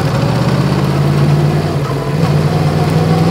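A Yamaha MT-10 motorcycle engine runs steadily on the road, its loud, low, continuous drone holding an even pitch throughout with no speech over it.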